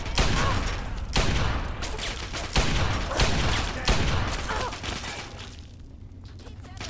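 Rapid pistol shots crack out in Fallout 3, a burst of loud close reports in quick succession that thin out toward the end, with some game noise between.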